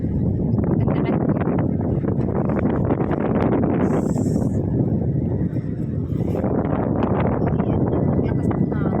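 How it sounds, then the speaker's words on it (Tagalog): Strong wind buffets the microphone in a steady roaring rush on a pier surrounded by mountains in Dapitan City, loud and continuous throughout, with voices faintly mixed in. "Lakas ng hangin."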